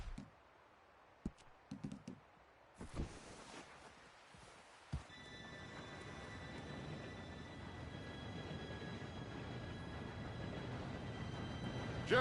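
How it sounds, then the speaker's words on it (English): A train arriving in the video game Red Dead Redemption 2: a few isolated thumps and clicks in quiet surroundings, then a steadily growing rumble with a faint sustained whistle-like tone as the train draws closer. "Train should be here any minute now."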